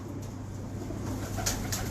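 A pigeon coos in soft, low, rounded calls over a steady background hum, with a couple of brief sharper sounds near the end.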